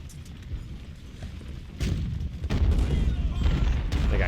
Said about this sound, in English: They got cannons over here.